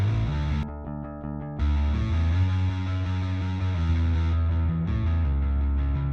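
A loud, gritty distorted bass guitar line through a distortion plugin plays alone, its fuzzy tone thinning briefly then returning thick and saturated.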